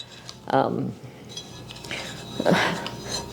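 A large shallow pan being handled, giving two distinct metallic clanks a couple of seconds apart against quiet room tone.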